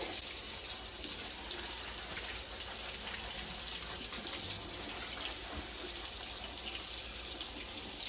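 Running tap water pours steadily over beekeeping gloves being washed in a sink, a constant close splashing hiss with no pauses.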